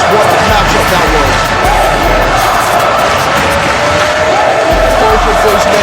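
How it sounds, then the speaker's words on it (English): A wrestling crowd at an indoor event roars in continuous cheering and applause, very loud and dense throughout, with low thumps mixed in and voices faintly audible inside the din. "Listen to this crowd giving appreciation for both of those men in this matchup."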